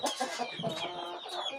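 A chicken clucking in a farm setting, a run of short repeated clucks and squawks, fairly close and heard alone without talk.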